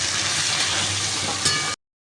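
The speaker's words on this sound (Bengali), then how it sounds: "আলু বেগুনটা ভাজতে দিয়ে" A steady, loud sizzle of potato and eggplant frying in hot oil, crackling continuously before cutting off abruptly.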